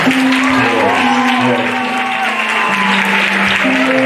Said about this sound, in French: Donc acclamez pour tous les candidats.